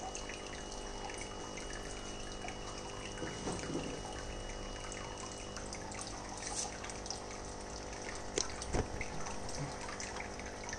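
Running water rinses saltwater aquarium parts during tank cleaning, a continuous splashing flow with a steady hum and occasional sharper splashes and knocks.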